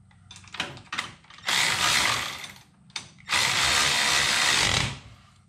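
A wrench or ratchet tightens a 13 mm or 17 mm nut on a snowmobile skid during center bearing replacement on a Sidewinder or Thundercat. It comes as short clicks, then two long, loud, steady whirring bursts, close and with no talk.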